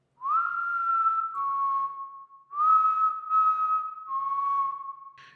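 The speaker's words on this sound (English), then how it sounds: "we heard the whistling." Eerie whistling in the dead of night, two long drawn-out tones, each sliding up then settling lower in pitch, clear and alone against silence with a short pause between them.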